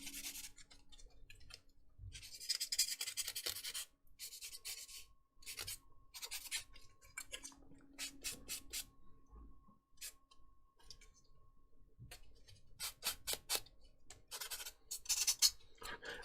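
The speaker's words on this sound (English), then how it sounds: "I like to sand the nubs" Quiet scraping and rubbing from sanding the nubs off parts of a Bandai Perfect Grade Millennium Falcon plastic model kit, in short bursts and strokes separated by pauses, with faint ticks and clicks between them.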